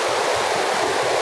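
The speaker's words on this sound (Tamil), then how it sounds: "இந்த மழை பெஞ்சதுனால ஆறு பறித்து ஓடிட்டுருக்கு. இந்த தண்ணியோட சவுண்டு எப்படி இருக்குன்னு நீங்களே பாருங்கள்." Mountain river in the Kotagiri forest of the Nilgiris, Western Ghats, swollen after rain, rushing in a loud, steady, unbroken roar of churning water up close.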